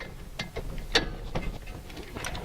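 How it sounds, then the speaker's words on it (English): A ratchet wrench clicks in short uneven bursts while loosening the front brake caliper slide bolts on a 2012 Scion xD during a disc brake job, close and moderately loud. "we're going to loosen up both the top and the bottom bolt first before I take them out"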